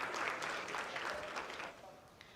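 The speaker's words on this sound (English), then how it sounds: "Oh, they're clapping something." People clapping in a space mission control room during a lunar lander's rough braking phase: steady, moderately distant applause lasting a couple of seconds that thins out toward the end.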